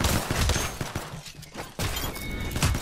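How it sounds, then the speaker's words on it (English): A grenade goes off in the Apex Legends video game: a burst of sharp, loud crackling blasts, a brief lull, then another rough surge of booming noise, with no talk over it. "Yep, it was a grenade."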